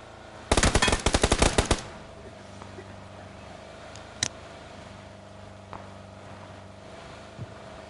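Rapid automatic gunfire from a PS4 video game, a loud burst of closely spaced shots lasting about a second, followed by a few isolated distant cracks over a low steady hum.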